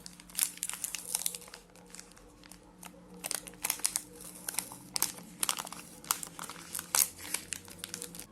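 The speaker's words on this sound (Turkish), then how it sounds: "İsterseniz paketi açalım ve hemen deneyelim. Kolay açılabilir paket yine." A Milka Oreo Choco chocolate bar wrapper is opened up close, with repeated sharp crinkles and crackles of plastic packaging coming in irregular bursts.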